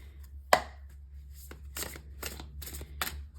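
Tarot cards being shuffled and drawn, a sharp card snap followed by several short riffling and sliding bursts of paper, close and fairly quiet, with no speech.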